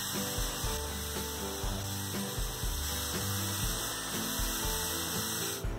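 A drill machine bores holes in an amplifier cabinet, its motor grinding steadily at close range with rhythmic bursts of the bit biting into the material, no talk over it.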